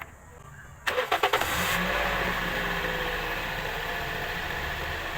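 A Toyota Vios engine cranks with a few quick starter bursts, catches, and settles into a steady close idle, heard alone while the coolant system is being refilled.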